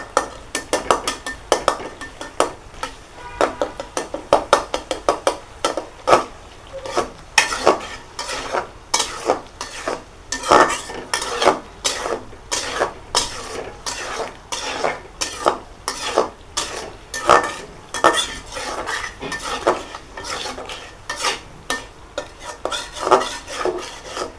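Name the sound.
onions being stirred in a frying pan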